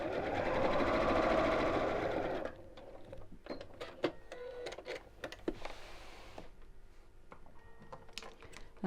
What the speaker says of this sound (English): we'll top stitch all the way around